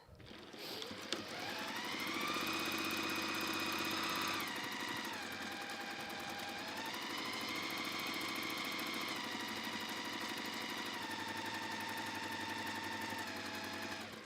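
Sewing machine running steadily for a long stretch, stitching around a scrappy log cabin quilt block seam; a continuous whirring motor hum shifts in pitch as speed changes, with no talking over it.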